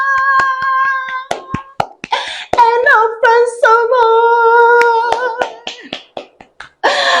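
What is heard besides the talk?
children clapping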